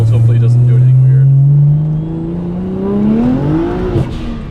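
A BMW 335i accelerating on a test drive, its engine note rising steadily in pitch as it pulls, loud and close from inside the car, then easing off near the end.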